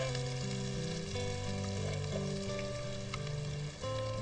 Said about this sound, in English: again sim the flame now and saute the paste for a little while